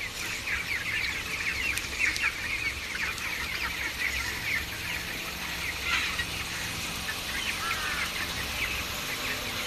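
A flock of chickens on a poultry farm on a hot day, with busy clucking and short calls layered steadily through a dense outdoor background.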